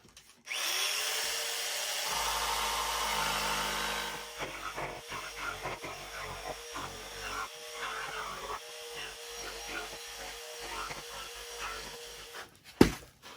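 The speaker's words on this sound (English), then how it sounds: "I'll use my jigsaw and cut this out." A jigsaw cuts through pallet wood, a steady loud buzzing drone for about four seconds, then a rougher, choppier cutting stretch with short pauses, ending in a sharp click.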